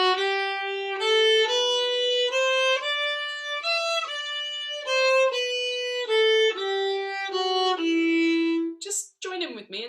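Solo violin plays an E natural minor scale in a long-short rhythm, distinct bowed notes stepping steadily in pitch, close and clear, with a brief scrape at the very end.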